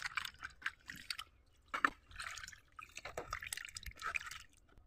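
Water dripping and trickling off freshly cut and washed parshe fish in a kitchen, a run of irregular wet patters and splashes close by, with no talking.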